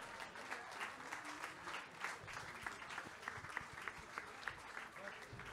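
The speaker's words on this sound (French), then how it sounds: "On peut les applaudir très très fort." Audience applause at the Transat Jacques Vabre 2021 prize ceremony in Fort-de-France, Martinique: a sustained, steady patter of many hands clapping, moderately distant, with a few louder claps standing out and faint voices mixed in.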